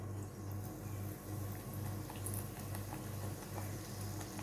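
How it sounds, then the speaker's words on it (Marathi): Ridge gourd bhaji fritters frying in hot oil in a kadhai over a medium flame, giving a steady, dense bubbling sizzle with soft crackles throughout. "आता आपण त्यामध्ये भजी आपण त्यामध्ये सोडणार आहोत."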